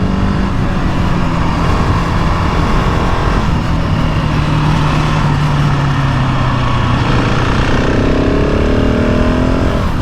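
A GasGas 700 SM supermoto's single-cylinder engine runs steadily and loud while being ridden, with continuous engine drone and wind noise and a rising pitch near the end as it accelerates.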